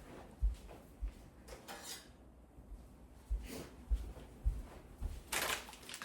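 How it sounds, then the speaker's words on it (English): A bread knife being fetched in a home kitchen, with sharp metallic cutlery clatters and clinks coming in scattered bursts, fairly close and moderately loud over a quiet background. "I get a bread knife."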